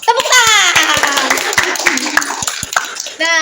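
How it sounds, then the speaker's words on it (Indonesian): Short burst of applause and laughter from a school audience of junior high students, sharp claps over cheerful voices, close and loud for a few seconds. "Tepuk tangan."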